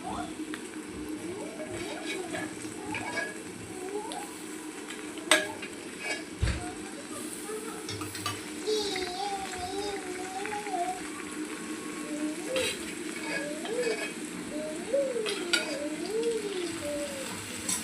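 Mutton pieces are sautéed in a thick raw masala paste, with a soft sizzle under repeated stirring and scraping of a spoon against the pot, close by, while someone talks throughout.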